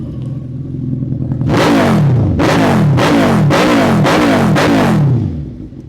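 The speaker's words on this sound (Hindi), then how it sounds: "है ना लाउड एग्जॉस्ट" A superbike revs hard through a loud exhaust, five or six sharp rising throttle blips in quick succession over a steady idle. The engine is close and loud, with no voices.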